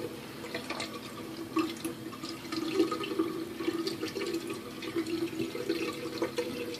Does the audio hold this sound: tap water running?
yes